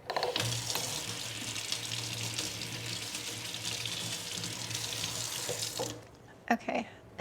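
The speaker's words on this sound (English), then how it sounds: "I'm gonna rinse this real quick." Tap water runs steadily into a sink while a pot is rinsed during houseplant repotting. It is a loud, continuous hiss that stops near the end, followed by a few knocks and clunks.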